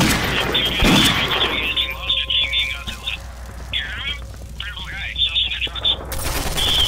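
Gunfire in the video game SMOD Outbreak: a loud burst of shots at the start that settles into scattered, quieter firing and game noise, with a voice talking over it.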